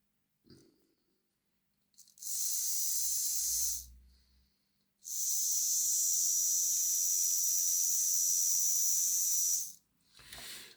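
Two long, loud bursts of aerosol oil spray hiss into bicycle bearings, the first about two seconds and the second nearly five, with quiet handling between them.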